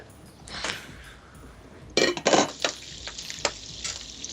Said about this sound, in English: that sizzling sound is making me so hungry right now.